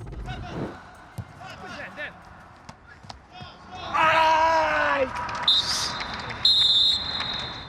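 A football goalkeeper for Dynamo screams in pain after a knee ligament injury during a match. A loud, sustained scream cuts through crowd noise and shouting around the pitch, with a referee's whistle following.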